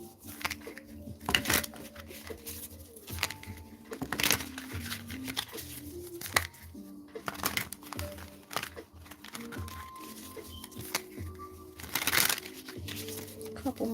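A tarot deck being shuffled by hand, with repeated soft riffles, taps and crinkly card rustles in uneven bursts, quiet and close, while someone talks over much of it.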